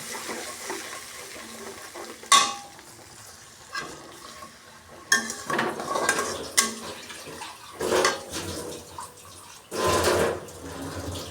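Cashew paste, poppy seed paste, melon seed paste, tomato and green chillies sautéed in a pan, with irregular spatula scrapes and clatters over a low sizzle, close by, no voices.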